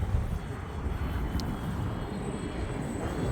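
An E-flite Valiant 1.3m RC airplane flying, a steady broad engine drone with a faint thin whine, heard from a distance without any voices.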